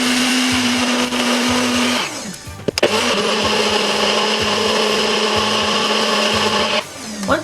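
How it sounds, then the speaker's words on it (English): A NutriBullet blender purees strawberries and other fruit, a loud close motor roar with grinding churn that briefly stops and restarts before cutting out. "now I'm going to put the top to my NutriBullet on it, and we're going to puree this"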